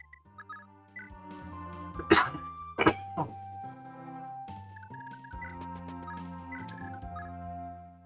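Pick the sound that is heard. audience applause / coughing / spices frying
coughing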